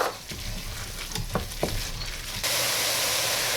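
Onions, garlic, jalapenos and artichoke hearts sizzle in a pan while a utensil scrapes and taps through them, and the frying hiss swells louder and steadier in the last second; nobody talks.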